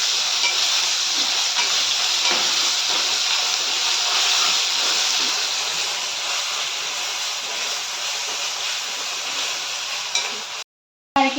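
Ginger paste and browned onions fry in a pan for a spicy chicken fry, giving a steady, loud, broad hiss and crackle that runs on without a break, with faint scraping from stirring, before a brief drop to silence near the end.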